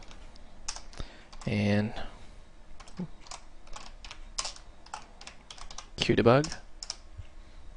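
Computer keyboard typing while writing C++ Qt code, key clicks in quick irregular bursts with brief pauses, close and moderately loud, interleaved with someone talking.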